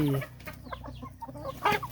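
Chickens cluck in a backyard coop, a few short close clucks and chirps scattered over a couple of seconds, with faint low background noise.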